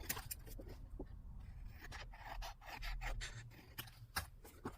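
Scissors cutting paper down to size, a series of close, quiet snips and rasping scrapes in an uneven rhythm with no talking.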